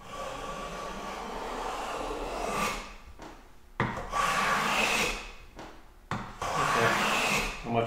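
A hand plane taking a light cut along wood with paraffin wax on the sole, producing long rasping strokes close by, three passes with short pauses between, no talking.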